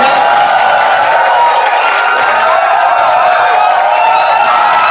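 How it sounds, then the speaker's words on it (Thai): A large seminar crowd applauds and cheers loudly to welcome a guest on stage, a dense, sustained roar of clapping and voices that fills the room without pause. "ขอเสียงปรบมือต้อนรับพี่บูดี้"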